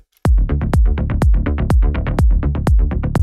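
A melodic techno bass line built in FL Studio, its decay automated to stretch longer at moments while a filter opens slightly, pulsing as fast punchy low notes in a tight repeating groove, loud and up front with no talking.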